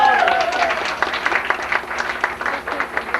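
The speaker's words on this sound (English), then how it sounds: "And another round of applause." Banquet audience applause for Donna Mae, a crowd clapping in a brief steady patter, with voices and cheers mixed in.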